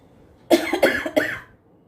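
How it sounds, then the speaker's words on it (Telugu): Three quick coughs in a row, close and fairly loud, then silence. "దగ్గు మెడిసిన్ వాడుతున్నాను కానీ కంటిన్యూ అవుతానే ఉంది"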